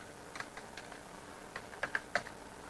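Someone types a place name on a computer keyboard, producing a run of soft, irregular key clicks close by and at low volume, with slightly sharper taps near the end.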